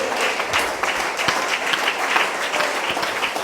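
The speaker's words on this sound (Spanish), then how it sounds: "Denle ese aplauso al Señor si es para Él." A church congregation claps steadily and fairly loudly, dense applause with no break.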